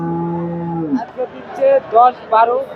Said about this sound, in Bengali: এই যে গাভীটা